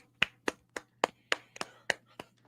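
A single person claps nine times in a loose, slightly uneven rhythm, each crisp clap close and distinct over a faint steady hum.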